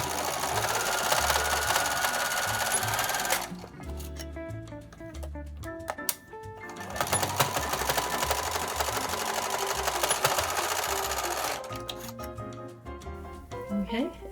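A sewing machine stitches a reversible, insulated bowl cozy in long steady runs of rapid mechanical whirring and clicking, pausing briefly twice between bursts, close up.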